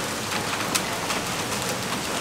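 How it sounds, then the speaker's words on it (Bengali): Heavy evening rain pours outside, a dense, loud and unbroken roar of drops hitting surfaces for a couple of seconds. "বাইরে থাকো ফাটিয়ে বৃষ্টি হচ্ছে"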